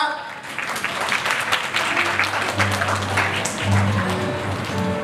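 Audience applause at a Thai press conference for a live concert, steady clapping from a room of people, with a low hum and faint voices running underneath throughout.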